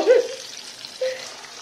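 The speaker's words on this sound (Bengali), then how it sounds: "চিংড়ি মাছটা প্রায় হয়ে এসছে, আর এপাশে আমার মাছ ভাজাও ডান।" Fish and prawns fry in a pan, giving a soft, steady sizzle with two brief louder hisses close by, and no talk over it.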